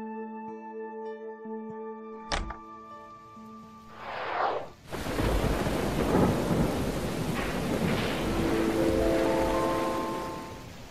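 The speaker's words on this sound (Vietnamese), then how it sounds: "ngài hãy vào đây tránh mưa đi" Heavy rain pours steadily with loud rumbling thunder, a sharp crack early on followed by a long roll of thunder over the downpour, while a soft musical tone plays beneath it.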